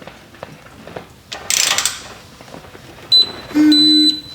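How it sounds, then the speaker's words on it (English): A torque wrench tightens transmission pan nuts to spec on a Chevrolet Colorado or GMC Canyon, giving ratcheting mechanical clicks, a brief rattling burst and a couple of short electronic beeps near the end, close and moderately loud. "now we're going to torque these to 37 foot-pounds"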